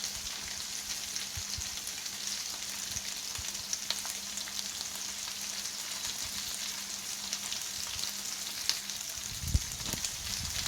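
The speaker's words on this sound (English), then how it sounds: "we've browned the liver up" Liver browning in a hot pan gives a continuous, bright crackling sizzle, close and steady throughout. A few faint utensil knocks sit underneath, and nobody speaks.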